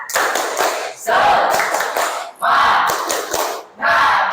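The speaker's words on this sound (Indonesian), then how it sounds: "Oke, sekali lagi. Tepuk semangat." Students in a classroom repeat a rhythmic spirit clap, several loud bursts of patterned group clapping separated by short gaps, accompanied by chanted voices.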